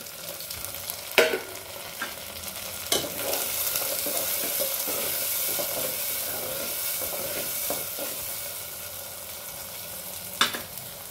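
Green chilies sizzle in hot oil in a pan for Andhra-style dum bhaji, a steady close fry broken by a few sharp stirring clatters, with no talking.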